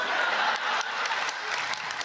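Dense audience applause at a comedy show at the Karachi Arts Council, a loud steady wash of many hands clapping with occasional sharper claps standing out.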